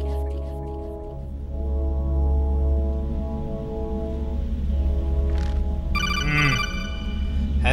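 A phone call rings in the video game Metal Gear Solid, a repeating electronic telephone tone rising over a loud, sustained musical drone and ambience.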